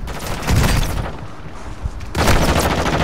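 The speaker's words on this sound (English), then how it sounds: "I got popped out whatever that fucking explosion was." Explosions and rapid gunfire crackle in the video game Call of Duty Modern Warfare 2, loud bursts of shots that drop briefly before a heavy volley resumes.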